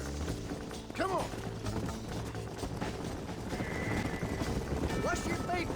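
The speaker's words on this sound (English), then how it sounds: "Get on your horse, boy!" Horses in the video game Red Dead Redemption, with hoofbeats clip-clopping steadily and a couple of whinnies rising over them, set against game music and voices talking.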